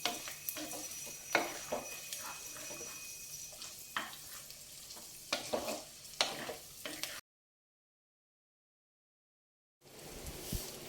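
Okra and onion fry in a pan with a low sizzle and repeated stirring scrapes, quiet and close, cut by a few seconds of total silence before the frying resumes.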